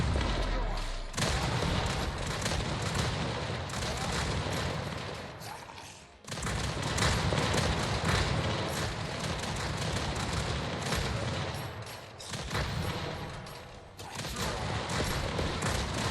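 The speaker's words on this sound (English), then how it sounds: "A backpack rocket launcher." Rapid, dense barrage of rocket launches and explosions from a backpack rocket launcher in a shooter video game, loud and nearly continuous with brief gaps, mixed with busy game effects.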